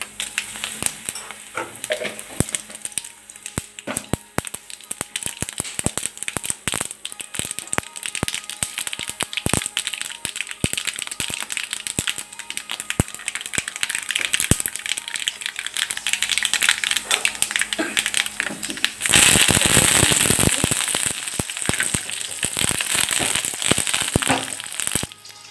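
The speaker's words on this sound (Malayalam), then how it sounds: "ഞാനിപ്പോൾ കടുകും മുളകും കൂടി വറൽ കഴിച്ചിട്ട് ഇപ്പോൾ വരാം" Mustard seeds and red chillies fry in hot oil for tempering mango pachadi, with dense crackling pops and a steady sizzle that grow louder and busier toward the end.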